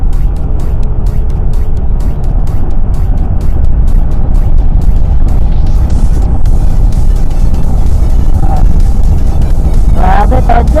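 A Yamaha XTZ125 motorcycle running flat out at top speed in third gear, its loud steady engine drone mixed with heavy wind rush throughout, with voices talking over it.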